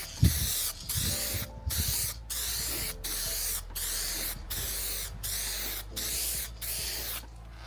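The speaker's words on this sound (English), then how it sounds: "So I'll start off with a dust coat, kind of like a half coat, followed up by 2 more coats." Aerosol spray can lacquer hissing onto a van's bodywork in about ten close, steady bursts separated by brief pauses, with no talking.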